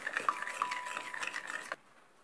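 A utensil stirs cream cheese cake filling in a bowl, making quick, close scraping and tapping clinks in a brisk rhythm that stops abruptly at about 1.8 seconds.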